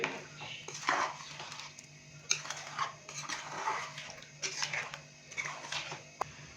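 Clattering and scraping of a spoon mixing beef masala curry after water is added in a metal pot, irregular knocks and rattles close by, with no voices.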